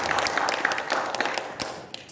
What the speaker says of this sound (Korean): 다시 한번 뜨거운 박수 환영하겠습니다